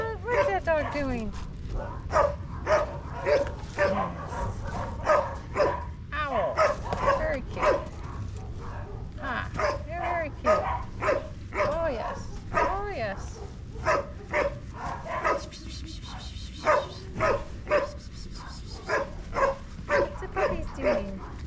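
Puppies bark and yip excitedly in short, repeated bursts throughout, with a person talking over them at close range.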